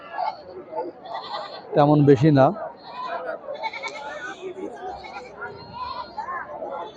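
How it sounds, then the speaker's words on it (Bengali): At an open-air goat market, a goat gives one loud, close bleat lasting about half a second, with livestock and crowd chatter around it and a person speaking. "খালি শুধু ছাগল আর ছাগল।"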